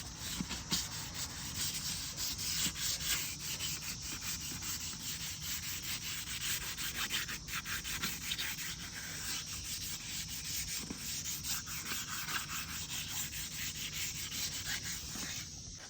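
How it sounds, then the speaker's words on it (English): Continuous gritty rubbing of sandpaper on stock Chevrolet K1500 truck wheels, steady and close, with a hissing scratchy texture and slight rhythmic strokes, no talking. "we're just going to go ahead and keep sanding these"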